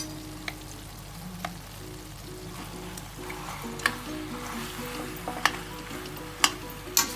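Macaroni is stirred into a pan with ketchup, a low quiet sizzle with faint scraping and a few sharp spoon taps against the pan.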